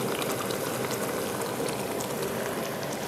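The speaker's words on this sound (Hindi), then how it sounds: "पानी जो है अच्छी तरह उबलने लगे और अच्छी तरह पक जाए" Chickpea curry gravy with mashed potatoes boiling steadily in a pot over a medium flame, a continuous dense bubbling and popping hiss with a brief sharper click near the end.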